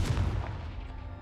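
Confringo fire spell cast in the Hogwarts Legacy video game, a single heavy booming blast that hits at once and then rumbles and fades over about a second, with no voices.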